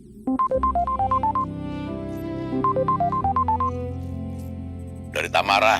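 A telephone rings with a repeating electronic melody of short high tones in two bursts, loud and close, with a household scene and people talking around it.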